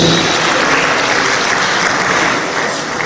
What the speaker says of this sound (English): Clap for him, please